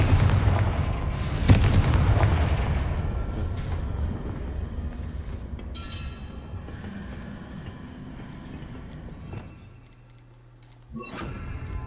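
Confringo fire spell explosions in a Harry Potter video game, a loud booming blast at the start followed by rumbling, crackling aftermath that fades, then another burst near the end, with no talk.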